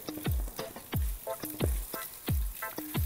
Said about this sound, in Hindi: साथ ही इसके अंदर मैं ये चिकन ऐड कर रही हूँ जिसे अभी मैरिनेट किया था और इसको जो है हमने अच्छे से फ्राई करना है